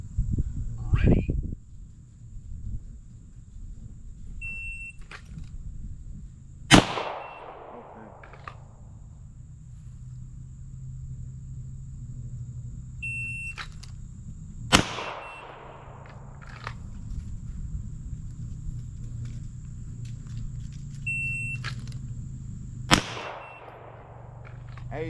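A Staccato P Comp pistol fired at an outdoor range, three sharp loud single shots spaced several seconds apart, each preceded by a high electronic shot-timer beep, with a low ambient rumble between.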